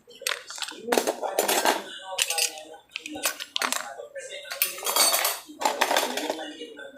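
Metal spoons clink and clatter as they are wiped and put away, sharp close bursts of rattling metal in irregular clusters with short pauses between.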